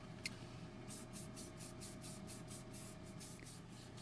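A spray paint can misting light green onto craft pom-poms in a quick series of short, soft hissing bursts, quiet and close, after a single faint click.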